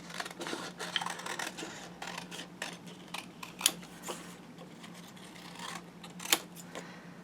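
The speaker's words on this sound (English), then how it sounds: "we're going to cut out Alice" Scissors cutting a paper Alice figure for a craft album, with soft, irregular snips and paper rustling close by, quiet throughout, and a couple of sharper clicks.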